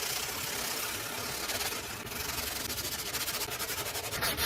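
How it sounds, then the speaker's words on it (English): Hand sanding across glossy light green painted metal, a steady scratchy rubbing that swells into quicker rhythmic strokes toward the end, close and fairly loud with no talking. "But as I sand it, and I'm not pushing hard at all"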